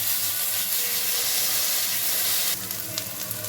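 Ginger garlic paste frying in hot oil in a pan, a loud, steady close sizzle that dips slightly partway through and then continues with light crackles, no talking.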